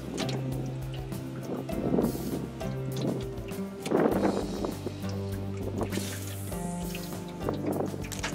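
An outboard boat motor runs on a river, a continuous near drone with shifting tonal hum and splashing water, steady throughout.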